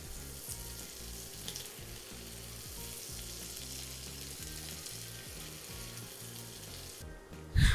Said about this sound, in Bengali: দিয়ে এটাকে প্রায় 7-8 মিনিট আবার ওইটাকে রান্না করে নিব, মানে ভেজে নিব